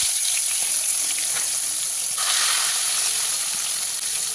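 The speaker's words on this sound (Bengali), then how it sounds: "এবারে একে একে মাছগুলো আমি ভেজে নেব" Tilapia pieces fry in hot oil for a mustard and poppy-seed tel jhal, giving a continuous, even, close sizzle and hiss with a slight swell partway through.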